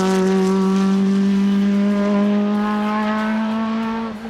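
Lancia Beta Monte Carlo race car with a turbocharged 1.4-litre engine, holding a loud, steady high-revving tone that slowly rises in pitch, close and sustained, without any voices.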